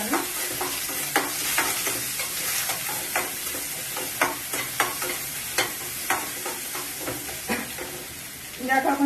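Grated carrot, ginger, green chili and curry leaves frying in a pan for a gram flour chutney, a constant sizzling hiss with repeated rhythmic scrapes and clinks of a spatula stirring close by.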